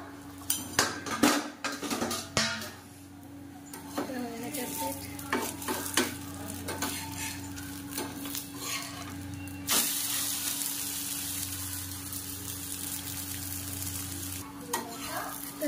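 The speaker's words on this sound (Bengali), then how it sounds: "এটা 2 পিঠ খুব ভালোভাবে একটু ভেজে নেব।" Batter flatbread (gola ruti) frying over low heat in a pan covered with a plate, giving a steady close sizzle with scattered clinks and scrapes of utensils on the pan throughout.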